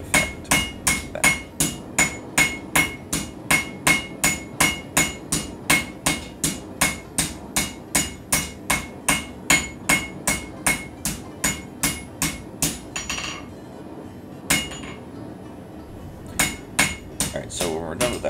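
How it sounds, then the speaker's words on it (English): Copper wand stock is forged with a hammer in steady, evenly spaced metallic strikes, loud and close, with a brief pause before the ringing blows resume. "the face of that hammer kind of grabs the copper a little bit and kind of pulls it over itself"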